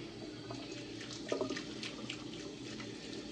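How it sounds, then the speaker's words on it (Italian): Hot water running from a tap for rinsing the face, a steady soft splashing stream with a brief louder gush partway through, close and alone. "un po' d'acqua calda iniziamo a sciacquare il viso innanzitutto"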